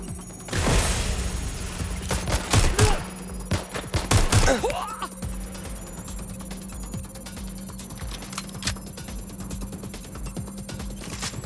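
Rapid bursts of gunfire in the video game Watch Dogs: Legion crackle loudly in the first few seconds, followed by a steady low electronic hum and scattered faint clicks.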